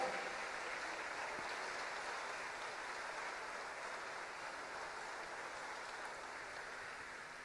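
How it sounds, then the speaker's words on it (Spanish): Church congregation claps in praise, a faint, steady wash of distant applause that holds evenly without voices on top. "De un aplauso al Señor ahí, vamos."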